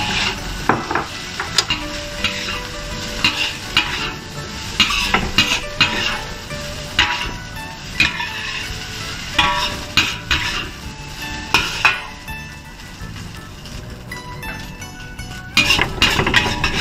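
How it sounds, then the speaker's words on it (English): Rice stir-fried over the highest heat in a wok for Chinese sausage fried rice, with a steady sizzle under repeated scraping and clanking of a metal spatula against the pan, loud and close throughout with no talking. "Turn to the highest heat you can and stir fry the rice until aromatic."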